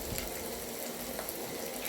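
Minced meat and onions fry in oil in a pan, giving a soft, steady sizzle and crackle that stays even throughout, quiet and close, with no talking.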